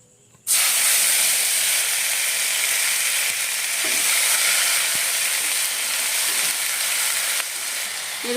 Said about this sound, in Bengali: এখন ওই তেলের মধ্যে আমি একটা তেজপাতা ফোড়ন দিলাম এবারে বেটে রাখা মশলাটা আমি দিয়ে দেবো